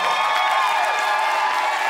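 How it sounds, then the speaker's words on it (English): Audience at a live comedy show applauding and cheering for a guest named Jasmine, a dense steady wash of clapping with whoops rising above it, loud and continuous throughout. "Everybody give a round of applause to Jasmine"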